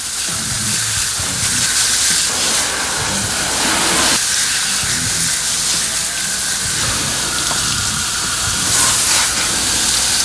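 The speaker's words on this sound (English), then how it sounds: "Once we're done with that, we're going to rinse it down." A water spray rinses down a car during a wash, making a loud, continuous hissing rush that pulses slightly as the stream moves across the bodywork.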